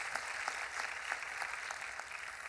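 A church congregation claps in a steady rhythmic beat, many hands together at moderate distance, sustained without a break.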